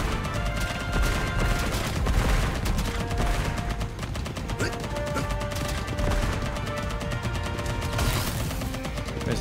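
Dense rapid gunfire and explosions from the video game Contra, with homing missiles firing in continuous loud bursts, with a voice talking briefly over them.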